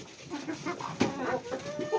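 Soft, irregular hen clucks and murmurs close by, a few louder calls rising over a faint background hiss, with no speech.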